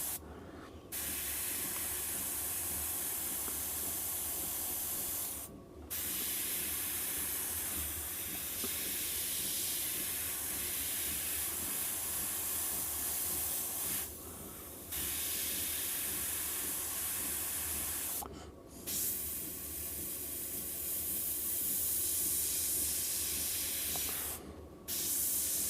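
Paint spray gun hissing in bursts of several seconds each, separated by brief pauses, close and steady with a broad airy spray, used to paint a Pink Panther figure with black moustache detail.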